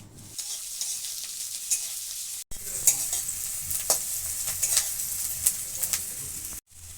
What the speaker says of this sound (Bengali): তেলটা গরম হয়ে গেছে, তেলে আমি একটা গোটা পেঁয়াজ কুচিয়ে দিয়ে দিলাম।